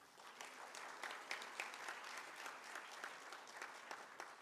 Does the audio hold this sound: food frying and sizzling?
no